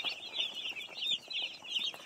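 Broiler chickens on their first day in a heated brooder chirp and cluck in a soft, steady chorus, faint and somewhat distant, with no voices over it.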